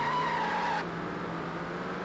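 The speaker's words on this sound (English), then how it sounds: "I spun the fuck out of my tire, so that's not good" A car's tyre spinning out in the racing game Test Drive Overdrive on Xbox, a steady engine drone with a thin squealing whine that cuts off abruptly, leaving the engine humming on alone.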